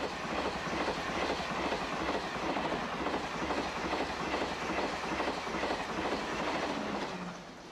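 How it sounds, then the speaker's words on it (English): A train rolls along the rails with a steady clickety-clack rhythm and constant rumble, easing off slightly at the very end. "The train that used to cross the channel meets the train that now goes under the channel"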